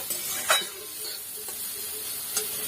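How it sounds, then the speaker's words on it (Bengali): Vegetables for chow mein sizzle in a hot pan, with a few sharp scrapes of stirring standing out over a steady frying hiss; no voices. "সবজিগুলো খুব ভালো করে ভেজে নেব"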